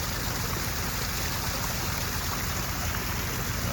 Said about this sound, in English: the waterfall looks great